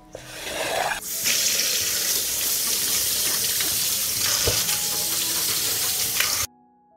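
Tap water gushing hard over fresh tomatoes in a sink, a loud continuous close rush with small splashes and clunks, ending abruptly when the water stops.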